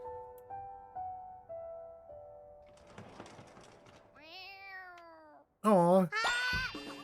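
A cat meowing in an anime scene, a few drawn-out meows rising and falling near the end, following quieter music tones and a brief voice.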